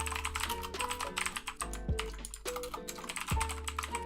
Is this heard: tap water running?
no